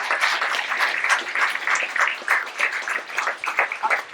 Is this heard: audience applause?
yes